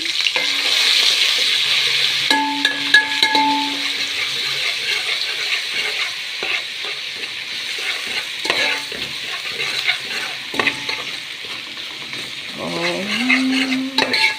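Garlic frying in a pan for Egyptian fatteh sauce with vinegar, a continuous sizzle with stirring clatter and scraping throughout, close and fairly loud, no talking.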